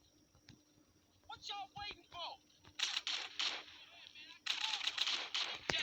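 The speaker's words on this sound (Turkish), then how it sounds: "Pompalıyla sıkıyorum öyle ama" A shotgun fires in GTA San Andreas as bursts of loud, sharp blasts that cluster in two rapid volleys, with a voice talking under and between the shots.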